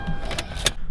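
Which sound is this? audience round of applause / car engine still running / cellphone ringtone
car engine still running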